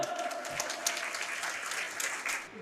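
An audience claps for a student at a school farewell ceremony, a steady, moderately loud patter of many hands lasting a couple of seconds with a faint voice underneath.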